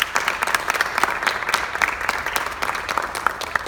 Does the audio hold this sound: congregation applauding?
yes